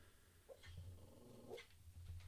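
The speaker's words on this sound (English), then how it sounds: "Oh, my dog's sleep barking." A dog barking softly in its sleep indoors, a few muffled, faint woofs and low growly huffs spread over a couple of seconds against a low steady hum.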